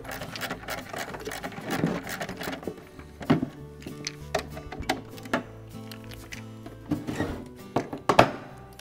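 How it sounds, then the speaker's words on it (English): Screws are tightened on the ice bin auger drum of a Whirlpool refrigerator during repair, giving a close series of clicks, ratcheting taps and small thunks with a faint steady hum beneath. "snug up these screws now."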